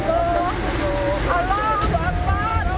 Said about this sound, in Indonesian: Inilah detik-detik angin puting beliung terekam kamera warga di kawasan Jalan AH Nasution, Ujung Berung, Kota Bandung